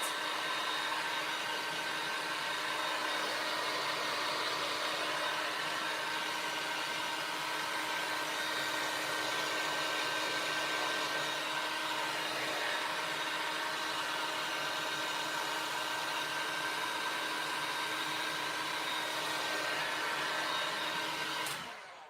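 A hand-held dryer blows continuously on a drying DIY project, a steady close whooshing hum that holds for about twenty seconds and then cuts off at the end.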